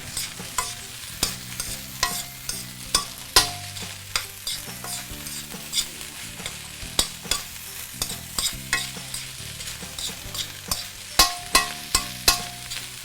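Chinese sausage fried rice being stirred in a hot pan, a soft sizzle under repeated crisp spatula scrapes and knocks against the metal in a loose, quick rhythm, close and fairly loud.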